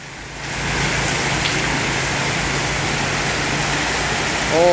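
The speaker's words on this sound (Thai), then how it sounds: "ทั้งลมพี่น้องทั้งลมทั้งฝนเลยครับ" Heavy rain and wind during a depression storm outside a house, a steady broadband roar of downpour that stays constant, with a brief voice near the end.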